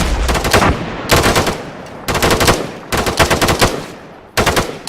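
Bursts of rapid gunfire fired from the hip during weapons training, loud and close, coming in several separate volleys with short gaps between them.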